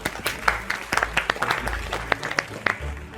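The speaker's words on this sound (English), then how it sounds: "A round of applause." An audience at a university quiz show claps in a loose, uneven patter of distinct hand claps that rise and fall over a few seconds.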